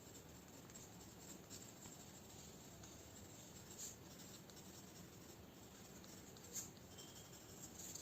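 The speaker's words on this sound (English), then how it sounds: "It is 2H drawing pencil. So let me scribble with this." A 2H drawing pencil scribbling lightly on paper, a soft, faint continuous scratching with small strokes, close and alone.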